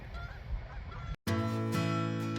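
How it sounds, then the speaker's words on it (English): Geese honk loudly in a repeated, nasal chorus, then after a brief cut a sustained musical tone takes over. "Geese."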